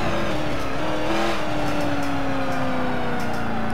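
Race car engine revving hard in the video game Forza Motorsport, a loud sustained V8 drone with the pitch sliding and holding, close and continuous with no voices.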